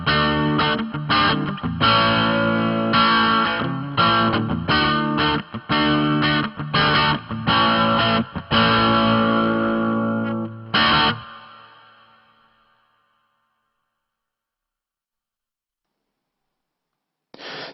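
An electric guitar played through a Hotone BritWind Pro cabinet simulator with reverb strikes a series of choppy, distorted chords, then one last chord rings out into a long reverb tail that fades to silence.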